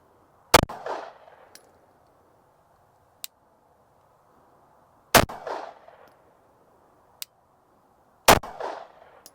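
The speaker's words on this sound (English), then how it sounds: "last one, Glock 19, 6 shots" A Glock 19 pistol fires at an outdoor range: three loud, sharp shots spaced a few seconds apart, each followed by a short echo, with faint clicks between them.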